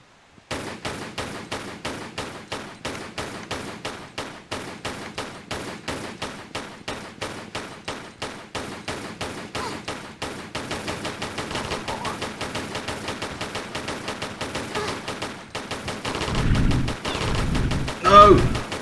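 Uzi gunfire in Tomb Raider IV on a custom TRLE level: a long, steady stream of rapid automatic shots in an even rhythm, getting denser toward the end, with a few heavier thumps and no talk.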